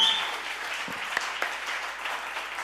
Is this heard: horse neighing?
no